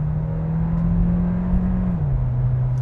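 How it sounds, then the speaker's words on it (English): A 2026 Kia Sportage Hybrid SX-Prestige engine droning steadily from inside the vehicle, its pitch holding and then shifting slightly as it works under acceleration. "Whenever I hit the accelerator, I'm hearing that engine."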